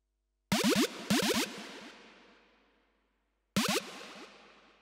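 A bright, processed synth stab fires in short pitch-bending bursts, two close together then one more after a pause, each trailing off into a long echoing tail, in a festival drop.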